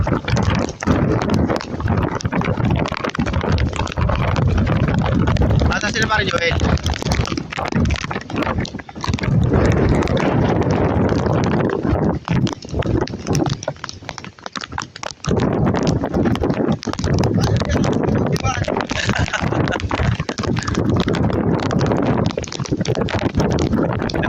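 Strong, continuous typhoon wind roars and buffets across the whole clip, loud and broadband, with a brief lull in the middle and a voice speaking briefly.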